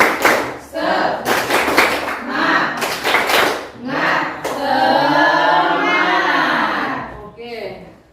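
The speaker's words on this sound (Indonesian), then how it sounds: "Oke, tepuk semangat." A classroom group claps a rhythmic spirit cheer, bursts of hand claps in quick sets, mixed with children and a teacher speaking and chanting together, fairly loud and close.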